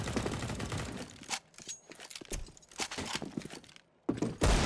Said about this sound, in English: He's going to try to shoot him right through the smoke here